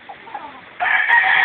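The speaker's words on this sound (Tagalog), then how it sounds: "yung manok ni Aldrin. Ni Jordan. Ayan, dalawa. Talisayin" A Talisayin rooster on a farm crows loudly and close, one sustained strained call starting partway in after quieter clucking.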